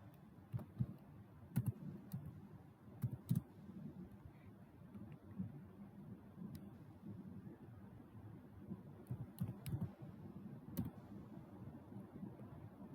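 A name is typed on a computer keyboard, with faint, irregular key clicks scattered over a quiet background hum, some taps sharper than others, and no talking.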